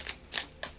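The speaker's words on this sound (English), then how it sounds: "I'll just do a final shuffle now of the Moonology" A deck of Moonology oracle cards is shuffled close up in a quiet room, giving a few soft, brief riffling bursts.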